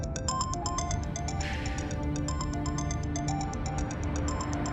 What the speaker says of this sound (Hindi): तुम्हारे बाबा का फोन फिर आ रहा है?